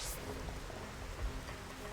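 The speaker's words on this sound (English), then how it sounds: "It is determined to rain at the moment," Steady rain falls in the video game Xenoblade Chronicles: Definitive Edition, a soft even hiss of drops with a faint low rumble beneath, quiet and continuous.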